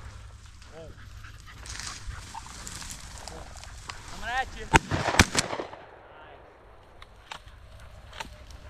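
A hunting dog on an upland bird hunt in Tennessee gives a few high, wavering whimpers amid rustling and a couple of sharp knocks, with people talking over it.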